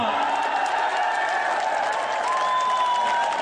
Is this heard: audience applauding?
yes